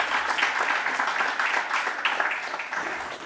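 An audience at a sustainable business report launch applauds the Safaricom CEO with brief, dense clapping that holds steady and then eases slightly.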